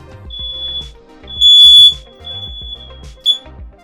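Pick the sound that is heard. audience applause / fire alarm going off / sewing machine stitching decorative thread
fire alarm going off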